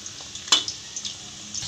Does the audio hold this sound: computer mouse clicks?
no